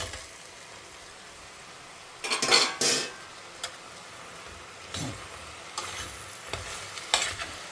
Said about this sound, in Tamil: வெங்காயம் கொஞ்சம் வதங்கி எடுத்து நம்ம இப்போ மஷ்ரூம்ஸ் ஆட் பண்ணிக்கலாம்.